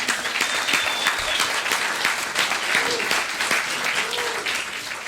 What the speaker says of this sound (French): Hey, les autres, on les applaudit.